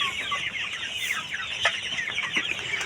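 Domestic chickens cluck and chatter in a busy flock, overlapping short calls filling the whole stretch at close range with no talking.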